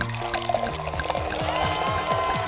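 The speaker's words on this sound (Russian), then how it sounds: "Сначала берем графин и наливаем в него газировку." Soda pours into a glass carafe, a close gurgling stream whose pitch rises steadily as the vessel fills over a couple of seconds.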